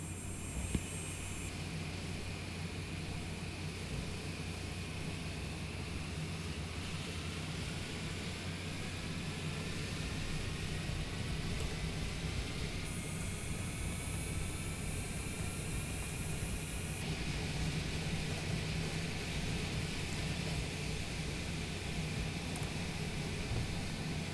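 Cessna Longitude business jet in Flight Simulator 2020, engines spooling up for takeoff from a runway: a steady, loud broadband jet roar with rising whine that swells slightly mid-way and holds continuously throughout, no talking.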